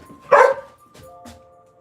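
Indoor dog giving one sharp bark followed by two softer yips, close and loud with no talking.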